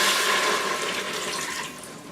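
Chicken broth poured into an Instant Pot, a continuous close splashing gush of liquid lasting about two seconds and easing slightly toward the end.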